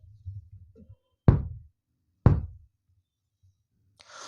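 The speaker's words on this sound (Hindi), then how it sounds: "उनके मुख्य दरवाजे पर एक धीमी लेकिन दृढ़ता दस्तक" Slow but firm knocks land on a main door at night, two heavy, resonant thuds about a second apart, loud and close, with quiet rustling before them and silence between.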